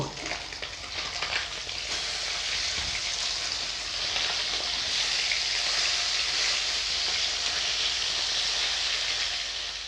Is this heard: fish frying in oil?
yes